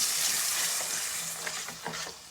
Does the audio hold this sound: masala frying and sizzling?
yes